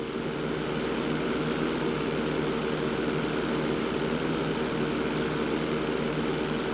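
Steady, loud propeller-plane engine drone from GTA 5, holding an even roar throughout with no talk over it.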